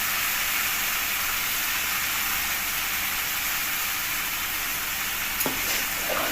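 Spices, ginger, garlic, chopped tomato and turmeric powder sizzle in a hot pan for a spicy fish curry, a steady loud hiss throughout with a brief scrape of stirring near the end.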